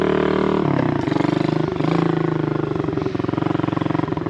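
A kid's pit bike engine runs loud and close with a rapid pulsing idle, its pitch dropping and shifting as gears change on an unusual reverse-pattern transmission, the steady chugging continuing throughout.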